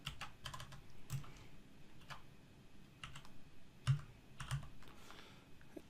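Keys clack on a computer keyboard while text is entered into a spreadsheet cell, in short uneven bursts of crisp clicks with small pauses between them, close and fairly quiet in a still room.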